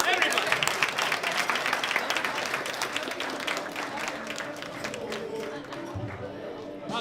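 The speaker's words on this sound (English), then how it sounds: "A big hand cheer for the lifters" An audience applauds for junior women's classic powerlifting competitors in a sustained wash of clapping that gradually thins out, with crowd noise underneath.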